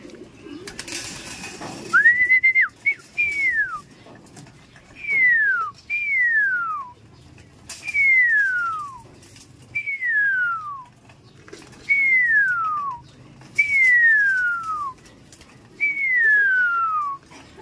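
A man whistles a repeated descending call to pigeons, about eight short slurred whistles in a steady rhythm with brief pauses, loud and close, with a rustling burst at the start.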